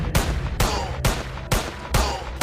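Sniper rifle fire at aliens in a video game: five loud, evenly spaced shots about half a second apart, each a sharp crack with a short rumbling tail, and no speech.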